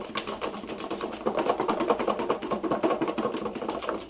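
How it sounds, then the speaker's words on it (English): Dry fava beans, gumballs and pine cones rattle and knock inside a closed box shaken in every direction, a dense, continuous clattering with rhythmic pulses throughout, close and fairly loud, with no voices. "The last step is to close up your box, shake it around, every direction."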